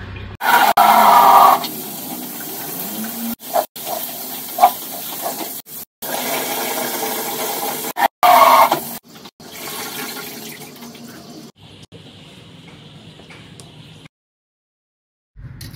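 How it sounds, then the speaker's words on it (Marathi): Running tap water splashes over freshly chopped mustard greens in a kitchen, a loud gushing stream that cuts in and out in bursts with brief pauses, then eases to a softer trickle before stopping. "आता याला मी स्वच्छपैकी धुवून घेणार आहे।"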